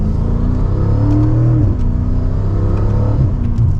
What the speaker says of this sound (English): You can just hear those turbos spooling, and the shifts are very quick.